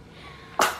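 A baby gives a single short, sharp sneeze at the very end after a faint quiet moment.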